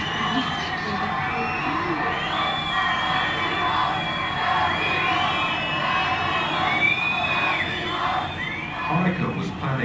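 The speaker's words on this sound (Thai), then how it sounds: "ตะโกนชื่อโกบชอฟนะโกบี้โกบี้นะฮะ" A large East German crowd cheers and chants a leader's name in rhythmic, high shouted waves, sustained and fairly loud throughout.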